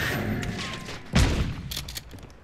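A single shotgun blast in the Call of Duty: Black Ops 6 beta, a sharp close boom with a heavy low thud that decays quickly, set among softer game noise.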